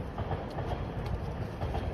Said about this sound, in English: The sound I just heard was the honking of a freight train.